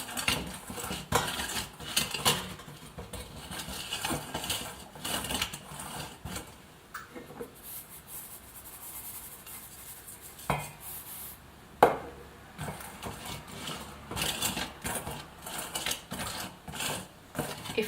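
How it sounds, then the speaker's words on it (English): Lye stirred into frozen breast milk for soap, a utensil scraping and clinking against the container in steady, uneven strokes with sharper knocks along the way, close and fairly quiet. "You just stir it around"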